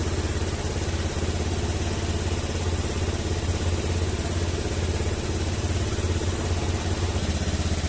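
A Honda Scoopy FI scooter engine idles steadily during RPM tuning, a continuous close mechanical drone with an even rapid pulse and no break.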